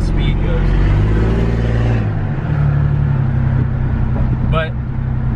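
A lifted V6 truck with its exhaust cut off, engine droning and revving loud and close in a steady rumble for several seconds, then dropping in pitch.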